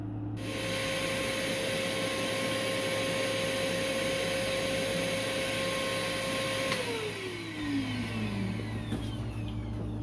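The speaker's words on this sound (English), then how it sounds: "Then I get my vacuum and vacuum that all up." A vacuum cleaner sucks up sanding dust from the sheeted tail surfaces of a Top Flite Douglas DC-3 model airplane kit, a loud, steady drone that holds throughout and then winds down in pitch near the end, with no talking.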